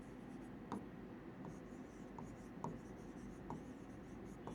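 A pen scratching on paper during a finance lesson: faint, close strokes with several small taps against a quiet room hum.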